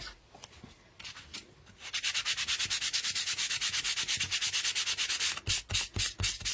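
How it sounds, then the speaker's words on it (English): Rapid back-and-forth sandpaper scrubbing on painted wood of an apple basket, a steady rhythmic rasp after a few quiet scratches, pausing briefly then resuming with slower strokes. "Quick sanding."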